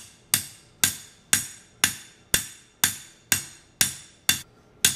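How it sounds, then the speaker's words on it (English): A ball peen hammer pounds a metal piece flat, ten sharp ringing strikes at a steady pace of about two per second, each decaying quickly, close and loud with no talk. "flip the piece around now and hammer on the other side to flatten"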